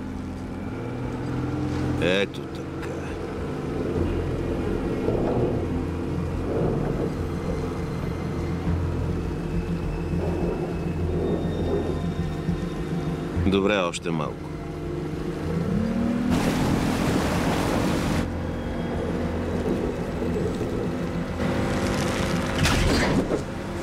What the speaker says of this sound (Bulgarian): нека използваме мотора, за да го издърпаме